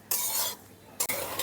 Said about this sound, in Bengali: ডালটা একটু ভেজে নেব, যতক্ষণ না ডালের কালারটা একটু চেঞ্জ হয়ে যাচ্ছে ততক্ষণ